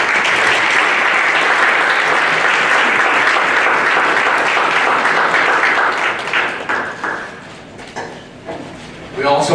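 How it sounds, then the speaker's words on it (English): An audience at a school board candidate forum gives a loud, sustained round of applause for the candidates, which thins into scattered claps and fades out over the last few seconds. "If you please give each candidate a round of applause."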